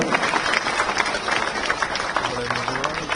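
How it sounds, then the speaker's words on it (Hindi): An audience claps at a ceremony where Jharkhand's CM Hemant Soren hands appointment letters to 444 training officers; steady applause runs throughout beneath a loud announcer's voice. "तालियां जरूर हो"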